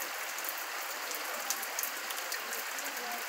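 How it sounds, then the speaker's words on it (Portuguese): Heavy rain falls steadily in the town of Joaquim Gomes, Alagoas, in the early morning, a dense continuous hiss of drops on surfaces with scattered louder splats, heard alone without talk. "e a chuva está caindo aqui"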